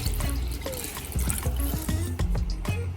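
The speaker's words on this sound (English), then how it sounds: "Two cups of water to this." Water is poured from a cup into a pot of chicken and yogurt sauce, a close splashing trickle with bubbly glugs and small knocks, steady for about three seconds.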